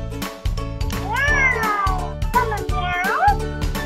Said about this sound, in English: So I got this kitty unicorn that makes noise.